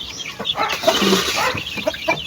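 Chickens and chicks clucking busily while being fed coconut, a close, dense mix of clucks and peeps continuous throughout.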